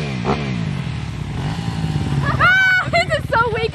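A motorcycle engine idles and is revved in short bursts up close, rough and throaty, while people talk and shout over it.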